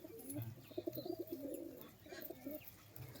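Domestic high-flyer pigeons give a steady run of low, soft coos at close range, rolling on almost continuously with a brief lull partway through.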